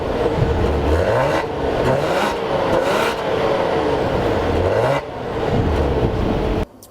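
Maserati Levante V6 in normal mode, its engine revving repeatedly with rising and falling pitch sweeps, loud and close, steady throughout before cutting off abruptly at the end.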